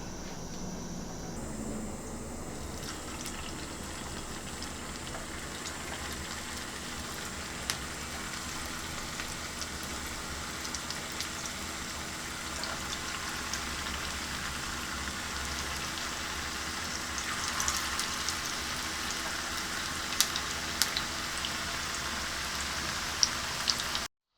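Raw banana kebabs shallow frying in hot oil, a steady close crackle and hiss running evenly throughout with a few sharper pops near the end.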